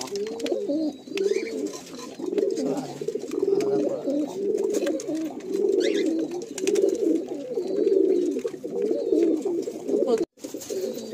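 Madrasi pigeons in a Kolkata loft coo nearby in repeated, overlapping low throaty phrases that continue steadily throughout.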